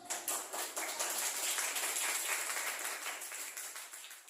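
A classroom group claps together in a steady burst of applause that fills several seconds, then tapers off slightly, with no talking over it.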